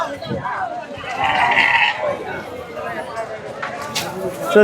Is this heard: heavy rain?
no